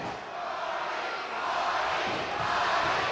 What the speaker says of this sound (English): 800 strong are screaming for Hardy in this tag team dream match.